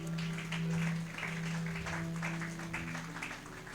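Church congregation applauding during a Sunday celebration service, a dense wash of clapping that swells early and keeps going under sustained organ or keyboard chords.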